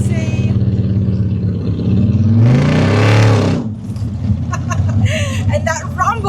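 A 572ci big block V8 with Holley EFI in a 1950 Ford F1 pickup gives a deep, loud rumble that swells into a rev partway through and then settles back, under someone talking.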